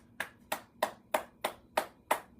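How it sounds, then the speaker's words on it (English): Seven sharp hand claps in a steady, evenly spaced rhythm during a guided morning bouncing and breathing exercise, close and fairly quiet, with no talking over them. "Clap our hands."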